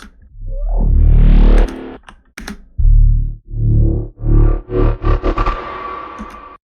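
Heavy, distorted bass notes with sliding pitch and echo, ending in a quick run of short punchy hits that form a turnaround.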